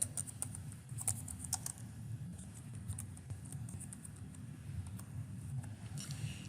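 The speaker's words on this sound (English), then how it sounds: "I'm going to type Benjamin Hernandez" Light, irregular keystrokes on a computer keyboard as a name is typed into a spreadsheet. The clicks are soft and close, scattered over a low background hum.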